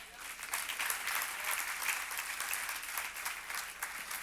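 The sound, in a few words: applause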